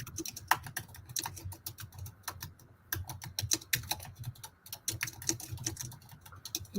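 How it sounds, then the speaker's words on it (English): Steady typing on a computer keyboard with irregular clusters of close, crisp key clicks and occasional heavier keystrokes, continuing without speech. "I'm just typing it exactly from where it is."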